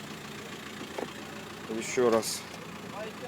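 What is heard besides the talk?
engine of a 2008 Volkswagen T5 1.9 idling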